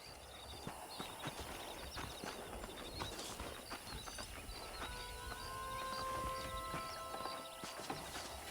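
Horse hooves clip-clopping in the video game Red Dead Redemption, a steady rhythmic trot over an outdoor ambient bed with a sustained tonal drone toward the end.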